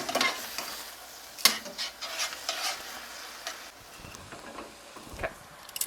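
Spinach wilts in a pan over medium-high heat, a faint steady sizzle broken by scraping stirs and a few sharp utensil clicks against the pan.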